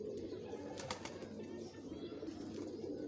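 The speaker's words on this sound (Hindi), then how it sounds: "जी वो मादी तो मैंने छोड़ दी है" A female pigeon flutters and flaps as she is released, soft close wingbeats with a faint coo amid quiet background, no talk.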